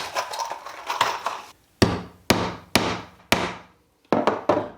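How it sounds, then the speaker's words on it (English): A hammer drives a nail into wood to hold it as a pivot point for bending trim into an arc, several crisp, sharp blows, a quick cluster first, then single strikes with pauses between them. "just drive the nail in so it'll stay in place"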